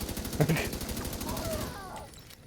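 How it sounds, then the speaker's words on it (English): Rapid gunfire from explosive-class bullets in The Division 2 rattles in a quick burst of close, regular shots that fade off, with a voice talking over part of it. "it's quite funny to hear the gun go like, "Puh, puh, puh,""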